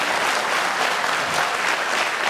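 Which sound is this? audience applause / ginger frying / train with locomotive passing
audience applause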